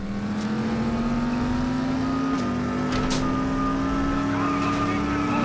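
A race car in the video game The Saboteur drives with a steady engine drone that shifts pitch once, as if changing gear, plus a few brief tire or impact noises.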